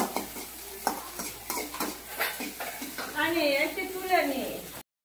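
Egg frying in a pan at home, with soft sizzling under a spatula stirring and scraping against the pan, plus light clinks of cookware; voices murmur faintly in the background.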